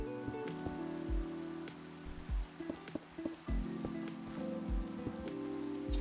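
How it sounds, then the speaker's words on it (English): Steady rain in Minecraft falls as a continuous hiss across the whole stretch, with soft thuds and clicks of in-game footsteps and block sounds scattered over it. "Maybe I can get rid of this rain."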